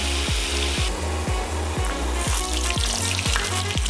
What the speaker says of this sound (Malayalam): ഫ്രൈസ് ഞാൻ വറുത്തെടുക്കുകയാണ്.